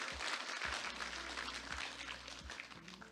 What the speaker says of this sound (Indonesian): Tepuk tangan untuk sampean semuanya